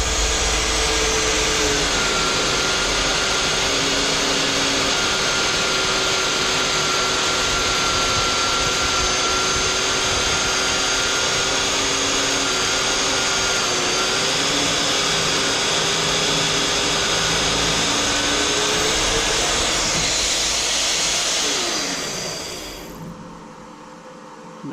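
A drill bores a one-inch hole into a steel diesel fuel tank during fabrication, giving a loud, steady whine that grinds on continuously for about twenty seconds before stopping abruptly.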